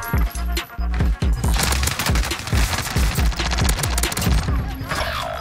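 A PPSH submachine gun fires in a video game, loud rapid continuous bursts of automatic gunfire with brief pauses between strings, close and dominant with no talking.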